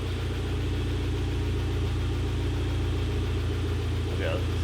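Audi TTS with an APR Stage 3 bigger-turbo setup idling as it warms up, a steady low engine rumble throughout, close and constant, with a slight rise near the end.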